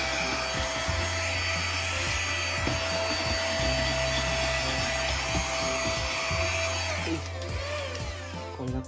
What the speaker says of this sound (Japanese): この充電式の掃除機ですね、ハンディ